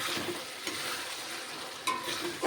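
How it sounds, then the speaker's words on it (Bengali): Chilli chicken gravy with turmeric being stir-fried in a pan: a steady sizzle with scraping stirs, and a few sharper clinks of the utensil toward the end, no voices. "হলুদ দেওয়ার পরে খুবই হালকা করে একটু কষাতে হবে।"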